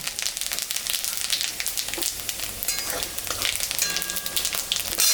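Dried red chillies and cumin seeds tempering in hot oil left over from frying fish, a steady crackling sizzle with scattered sharp pops, close and continuous, no voices.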